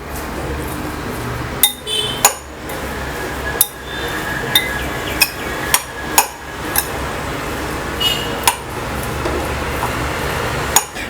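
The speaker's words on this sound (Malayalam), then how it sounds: "ഇത് നന്നായിട്ടൊന്ന് മിക്സ് ചെയ്തെടുക്കാം" Oats uthappam sprout filling mixed in a bowl, a spoon striking the bowl in a string of sharp, irregular clinks over a steady low background.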